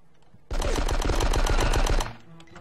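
Gunfire in the Die Hard Nakatomi Plaza video game: a rapid burst of automatic shots, about a dozen in quick succession lasting a second and a half, loud and alone.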